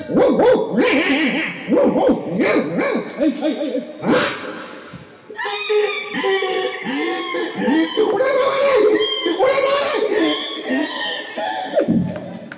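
A voice imitates dogs barking and yelping, then shifts into higher whimpering cries, loud and close with brief pauses.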